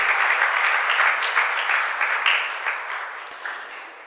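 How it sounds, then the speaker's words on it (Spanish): A parish congregation at Medalla Milagrosa church in Zeballos Cue gives a warm round of applause during Mass, a steady dense patter that holds strong and then slowly fades, with no voices over it. "A todos ellos también un fuerte aplauso de gratitud."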